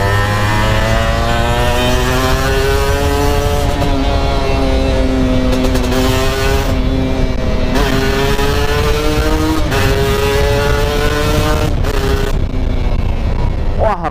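A Kawasaki Ninja SS motorcycle on the road, its engine loud and close as it climbs through the revs, drops with gear changes and pulls again, under constant wind rush.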